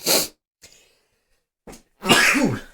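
A single sharp sneeze bursts out close by, preceded by a quick breath and followed by a short gasp.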